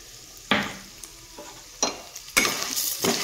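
Masoor dal hitting hot mustard oil seasoned with dried chilli and bay leaf, each addition bursting into a sharp sizzle, four distinct surges within a few seconds over a low hiss.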